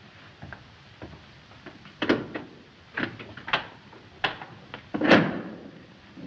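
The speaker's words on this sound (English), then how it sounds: "Max, open the door." A door in a 1937 film scene is worked open with a run of close wooden knocks, clicks and rattles, several sharper thumps spaced a second or so apart over a quiet background.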